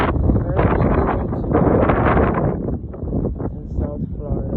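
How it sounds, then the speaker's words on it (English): Strong wind gusts batter the microphone in a backyard food garden in Florida, making a loud, uneven rumbling that swells and eases over several seconds. "Okay, it's very windy."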